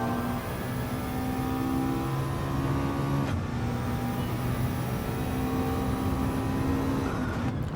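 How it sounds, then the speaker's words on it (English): Race car in the driving game Gran Turismo 7, its engine droning loudly and steadily with rising and falling pitch as it accelerates out of a corner and brakes hard, with a brief gear-change dip midway. "Powering out of the corner. Braking hard, dropping down to 2nd again."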